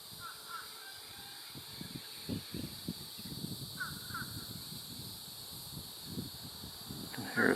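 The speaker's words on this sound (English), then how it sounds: "And here's a fish crow." A fish crow gives faint, short nasal calls in pairs at a distance, heard in an outdoor setting in the Ozarks with insects buzzing steadily and low rustling close by.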